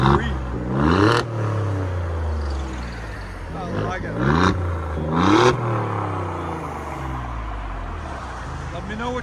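A V6 engine is revved several times through its exhaust, each rev rising in pitch and then falling back before the next, with brief speech over it.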